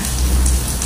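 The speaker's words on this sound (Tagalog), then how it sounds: "biglang bumuhos yung ulan." Heavy rain pours down in a loud, dense, continuous wash that stays steady throughout, with no voices.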